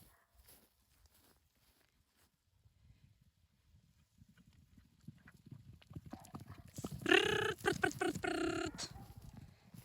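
Escaped horses' hooves clip-clop, growing from faint, distant steps to a louder, closer rhythmic clatter on the ground, with a neigh-like call and light outdoor ambience.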